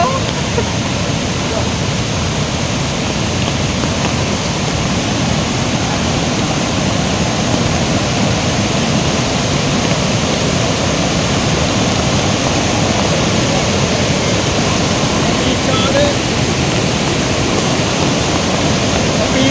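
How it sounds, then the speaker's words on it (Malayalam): A steady, roaring rush of heavy falling water at Peechad waterfall near Munnar during heavy rain, broadband and unbroken throughout, close and loud. "പീച്ചാട് വെള്ളച്ചാട്ടത്തിൻ്റെ വന്യമായ ഭംഗിയാണ് ഇപ്പോൾ കണ്ടുകൊണ്ടിരിക്കുന്നത്"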